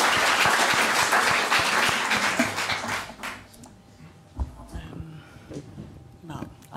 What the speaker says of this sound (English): Please, a warm applause for her.